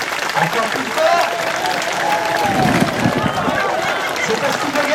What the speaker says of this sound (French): il va falloir applaudir très très très fort